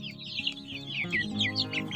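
Three-week-old chicks peep and cluck in a flock, a busy overlapping chatter of short high calls at close range with a low background hum.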